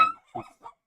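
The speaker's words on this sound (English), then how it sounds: "sorry about my dog." A pet dog gives three short, soft barks or yips in quick succession, close by and quiet, in a room during a live game stream.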